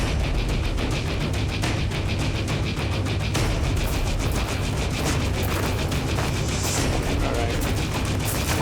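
Dense, continuous gunfire at an outdoor shooting practice, many rapid overlapping shots forming a loud, unbroken fusillade throughout, with occasional voices mixed in.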